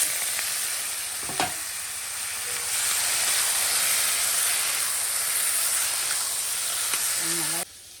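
Squid added to cooked spice paste in a pan, giving a steady loud hiss and sizzle of frying close by, with a brief clatter early on and a few light stirring scrapes.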